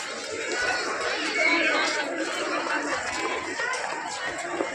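A dense crowd chatters at a Ganga Mata temple in the hills, many overlapping voices forming a busy, steady hubbub nearby.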